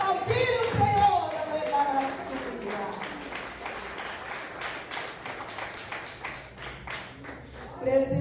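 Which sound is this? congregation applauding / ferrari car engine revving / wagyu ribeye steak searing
congregation applauding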